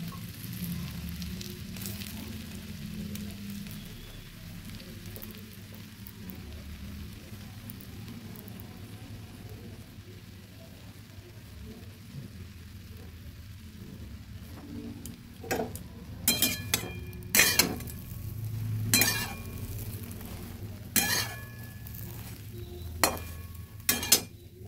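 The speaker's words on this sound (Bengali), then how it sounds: "ব্রেডগুলো ভেজে নিচ্ছি।" Bread slices frying in butter or white oil in a pan for a breakfast dish, a low steady sizzle with stirring and several sharp clinks and taps in the later part, no voices.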